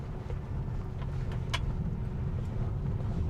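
Aletra L8 electric car rolling over a rough, damaged road, heard as a steady low rumble of tyres and suspension with a few brief knocks and rattles, no talk.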